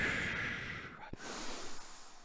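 A single slow breath drawn in through the nose during a chemistry lesson, a soft close airy inhale followed by quiet exhaling, with no talking.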